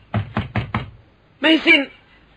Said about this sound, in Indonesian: Bukalah pintu untukku, Meisin.